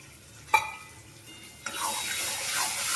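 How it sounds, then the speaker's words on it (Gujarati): Water poured into a pan for a cashew gravy in a paneer curry: a single click, a short quiet pause, then a steady splashing pour that runs to the end. "પાણી નાખીએ."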